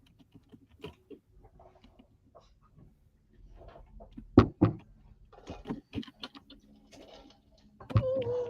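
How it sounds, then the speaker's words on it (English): Irregular clicks and taps from a computer keyboard come in scattered bursts, some louder knocks mixed in, close by in a quiet room with faint background movement. "Let me type it."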